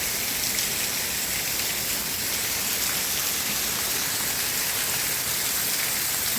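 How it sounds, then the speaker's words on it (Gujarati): A torrential downpour drums without pause in a village near the Shetrunji river, a thick steady roar of rain close by. "આમતા મૂસળધાર વરસે"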